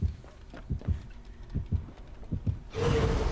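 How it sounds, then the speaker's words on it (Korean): Heartbeat effect from the Dead by Daylight horror game, a steady low double-thump pulse at moderate volume, followed by a sudden burst of loud noise near the end. "하지만 심장 소리가 두근두근."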